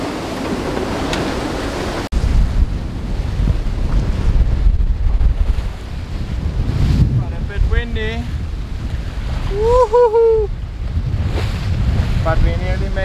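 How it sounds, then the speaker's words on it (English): Strong wind at about 23 knots roars across a sailing boat on calm water in the lee of an island, a loud steady buffeting with microphone wind noise throughout and brief voices partway through. "Nice winds and no waves."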